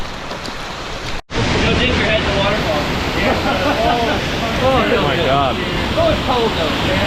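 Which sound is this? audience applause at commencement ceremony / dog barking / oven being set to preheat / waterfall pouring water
waterfall pouring water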